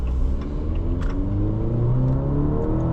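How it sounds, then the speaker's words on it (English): A 2024 Maserati Grecale GT four-cylinder engine pulls steadily under acceleration, its low hum rising gradually in pitch over a few seconds, close and continuous with a light whir. "for a 4-cylinder, it sounds pretty good"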